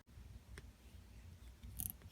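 Scissors or snips cut through a strap on a Dodge Magnum rear shock absorber, giving a sharp snip about halfway in and a brighter crisp cut near the end over faint low rumble. No voices.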